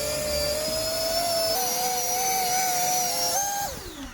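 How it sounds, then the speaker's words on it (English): Two 30mm wingtip electric ducted fans for roll control on a 3D-printed RC Harrier run at close range, giving a loud, steady, high whine that shifts pitch a few times and then winds down. "Next are the wingtip EDFs for the roll control. These are 30mm ones and got up to 250 grams of thrust."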